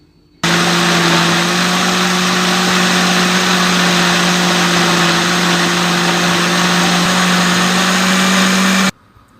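A kitchen blender whirs loudly and steadily, blending spinach with tomato paste, starting abruptly, running at constant speed for about eight seconds with a strong motor hum, then cutting off.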